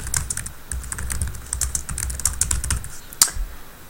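Someone types on a computer keyboard at a steady pace, a close run of soft key clicks with one sharper keystroke near the end, alone with no talk.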